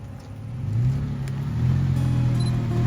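A Toyota FJ Cruiser fitted with Bilstein 6112 suspension climbs an offroad trail uphill, its engine rumbling low and steady, swelling as it pulls forward with a continuous close drone and no talk.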